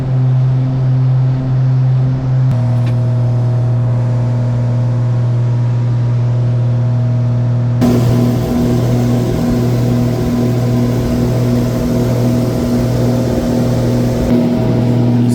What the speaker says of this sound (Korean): 이 경비행기가 하늘로 뜨는 모습을 보여드릴게요.